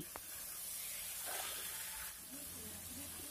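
About a cup of green peas dropped into a frying spice paste, releasing a steady close hiss of sizzling oil that swells briefly and then settles, with no talk.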